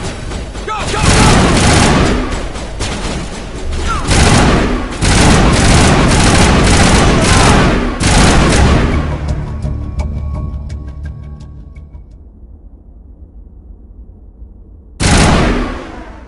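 Gunfire erupts in a video game shootout on PS4: loud, dense volleys of shots in several bursts, then a fading, quieter stretch before one last sharp burst.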